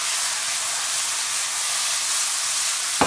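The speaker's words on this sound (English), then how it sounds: "You can see it's starting to sizzle and change colour." Steady, bright sizzling hiss of food frying hard in a hot pan on high heat, continuous and fairly loud, with a small clatter at the very end.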